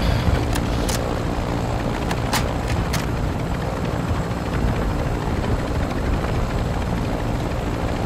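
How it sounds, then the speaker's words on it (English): A helicopter flies in Call of Duty: Modern Warfare II, its rotors giving a steady loud drone that fills the whole stretch. A few sharp clicks and cracks cut through it, with no talking. "What's a helicopter down there?"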